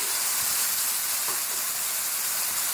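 Tomato puree from three medium tomatoes hits a hot frying pan of achari mutton, setting off a loud, sustained, close hissing sizzle without a break.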